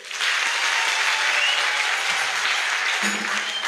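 Catholic congregation at the church in Ndundu applauding a priest at a service: a steady, dense wash of clapping that starts almost at once and holds close and loud to the end.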